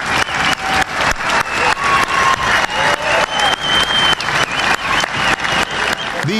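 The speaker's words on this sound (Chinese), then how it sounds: "美法总统带领在场人士向出席的老兵致以热烈的掌声。" Warm applause for Normandy landing veterans at a D-Day commemoration led by the US and French presidents, a large crowd clapping steadily and loudly in close rhythmic waves for several seconds.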